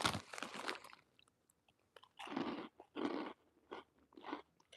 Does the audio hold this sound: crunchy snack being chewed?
yes